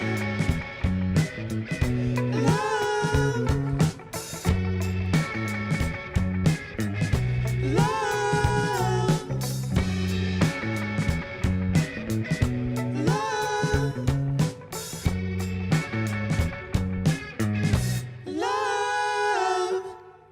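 A live band plays a full song with steady drums, bass and melodic instruments, no talking, ending with a brief shift to a held chord.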